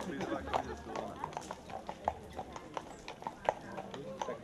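Two horses' hooves clip-clop steadily at a halušky festival in Turecká, a quick irregular clatter under busy crowd chatter and nearby speech.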